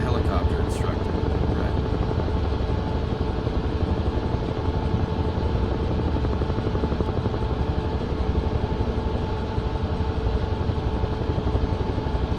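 A helicopter's rotor and engine roar steadily and loudly in Microsoft Flight Simulator 2024, a constant thrumming drone throughout, with people talking over it.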